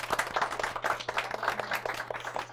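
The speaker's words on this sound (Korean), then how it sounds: "지금 이렇게 박수 네 한번." Small audience at a book forum gives a brief round of applause, a modest cluster of hand claps heard fairly faint and close, with a low steady hum underneath.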